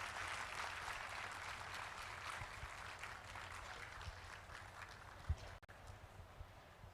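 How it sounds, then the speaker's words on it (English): After a dance performance at a devotional gathering, the audience gives a round of applause, a fairly faint, distant wash of many hands clapping steadily, with a low background rumble. "Then give a big round of applause."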